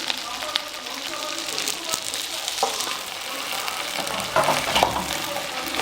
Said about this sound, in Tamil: வெண்டைக்காயை ஆட் பண்ணிவிட்டு வெண்டைக்காயை நல்லா வதக்க போகிறோம்